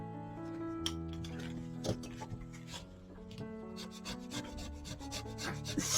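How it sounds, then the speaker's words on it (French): Scratching the coating off a cheap scratch card, a faint close dry rubbing and rasping that goes on in short strokes, with no speech. "je vais gratter une pastille"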